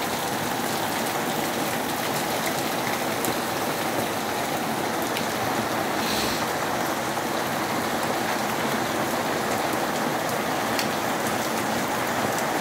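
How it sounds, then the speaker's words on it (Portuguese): Heavy rain pours steadily in Fortaleza, a dense, unbroken hiss of drops drumming on surfaces that stays loud and constant throughout. "Já tá chovendo demais."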